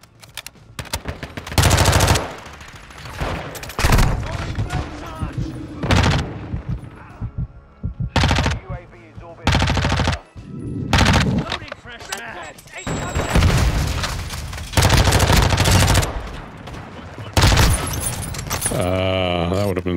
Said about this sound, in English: Shot him in the legs.